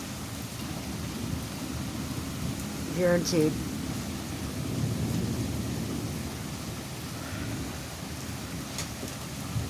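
Rain pouring steadily outside a house during a thunderstorm, a broad continuous hiss with a low rumble, while someone speaks briefly near the middle.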